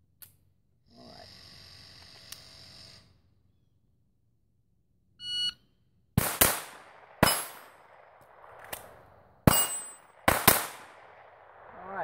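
A .22 pistol with a dot sight fires a series of sharp, close shots, each followed by the ringing clang of steel targets, after some quieter handling and clicking sounds early on.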